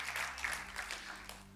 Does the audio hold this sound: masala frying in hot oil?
no